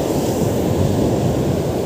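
Continuous rushing roar of ocean waves on the shore at a fishing spot with a strong current, loud and steady, mixed with some wind buffeting on the microphone.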